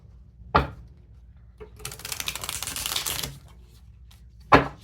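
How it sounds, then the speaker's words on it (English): A deck of tarot cards is riffle-shuffled up close, a dense rapid flutter of cards lasting over a second, bracketed by sharp single taps of the deck on a surface before and after. "One more shuffle."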